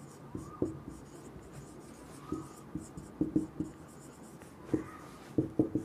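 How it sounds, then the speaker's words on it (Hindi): A pen writes a math answer on paper, giving close, quiet scratching strokes in short irregular bursts with small pauses between them. "फर्स्ट नंबर क्वेश्चन का हम लोग आंसर लिख लेते हैं"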